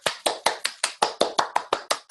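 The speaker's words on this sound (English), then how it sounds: "A round of applause." A short, close burst of about a dozen evenly spaced hand claps rings out after a presentation to a faculty club, sounding more like a steady rhythmic clap than scattered applause.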